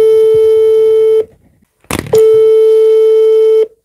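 A telephone call tone sounds during a call: two long, loud, steady electronic tones, each lasting over a second, separated by a short gap with a brief burst of noise between them.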